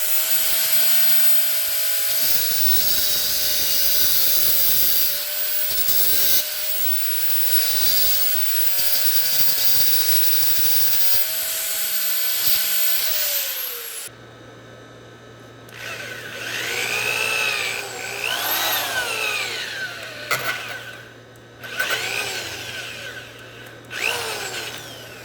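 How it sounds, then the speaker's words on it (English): Grinder on a brake line fitting of a derelict 1976 Bronco, a steady high whine that winds down, followed by a drill biting into the metal in uneven bursts, close and loud, no talk. "just take a grinder and grind that flush and then just drill it out"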